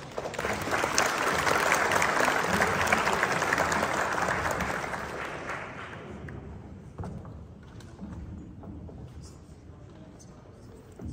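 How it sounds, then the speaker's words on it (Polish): An audience claps at a Polish school year-end ceremony, loud sustained applause that swells over the first few seconds, then thins and fades to scattered claps and room noise by the end. "Wielkie brawa, dziękujemy Ci."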